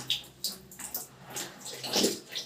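Water trickles at low pressure through an instant electric water heater, a faint uneven splashing with small bursts of flow, heard close and without speech.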